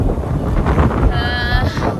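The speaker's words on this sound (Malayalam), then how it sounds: "നല്ല കാറ്റുണ്ട്, മഴയ്ക്ക് നല്ല സാധ്യതയുണ്ട്" Wind buffets the microphone outdoors on New Year's Eve in Brisbane, Australia, after fireworks, in a low, continuous rumble, with a brief higher tonal sound partway through.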